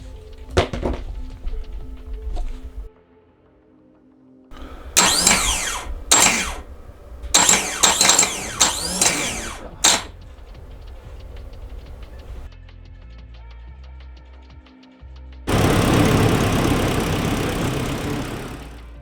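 A Nissan S13 engine cranks and catches, then rumbles at a rough idle with bursts of revving and clunks, dropping out briefly before a louder, steady running stretch at the end.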